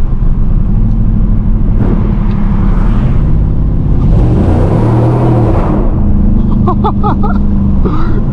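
A second-generation Dodge Charger RT AWD driven at night in winter, engine roaring loudly and continuously as the revs swell and blip on a downshift, heard close from inside the cabin.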